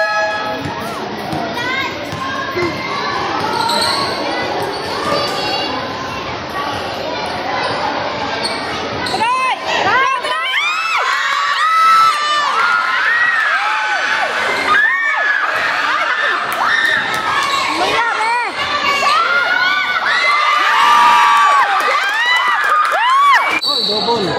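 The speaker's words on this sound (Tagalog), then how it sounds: "Sige na sigawan naman" Children shout and cheer loudly at an elementary-division basketball game, high excited voices overlapping continuously with bursts of yelling, a near, busy gym din throughout.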